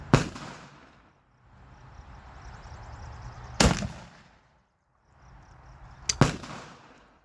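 Rifle shots at an outdoor range, three loud sharp cracks spaced a few seconds apart, each followed by a lingering rumbling echo that fades before the next report.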